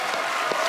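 Steady wash of applause from a studio audience at a comedy talk show, dense and continuous for under a second, with no gaps or single claps standing out.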